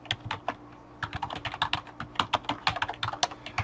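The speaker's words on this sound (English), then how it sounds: "typing and can't talk and type at the same time" Rapid, uneven clicking of keys on a computer keyboard, close and clear, in quick bursts with short pauses, and no talking over it.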